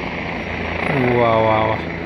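A helicopter flies below a mountain viewpoint near Kedarnath, making a steady broadband rotor drone that continues throughout, with a voice speaking over it.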